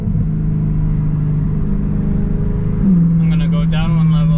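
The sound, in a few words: BMW M3 DCT downshift with loud exhaust in a tunnel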